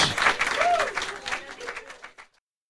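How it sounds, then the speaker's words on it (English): Applause from a studio crowd rolls for about two seconds and then stops. A voice briefly rises over the clapping. "Big round of applause"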